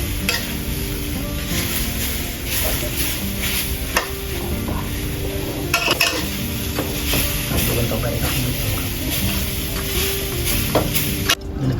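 Grated coconut dry-roasting over a low flame while being stirred continuously, a loud, close, steady rasping scrape with a faint hiss and occasional sharper knocks of the utensil against the pan.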